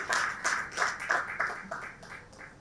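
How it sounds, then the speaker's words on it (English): A small group at a lecture claps in a light, uneven patter that gradually thins out, fairly quiet and without any voices over it. "A better round of applause for him as he comes, please"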